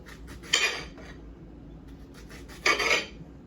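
A knife cuts around a ripe peach to free the core, giving two short, crisp scraping strokes against a board, each about half a second long, separated by quiet.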